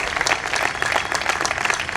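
Audience applause at a memorial gathering, a steady dense wash of clapping hands filling the whole stretch, loud and close.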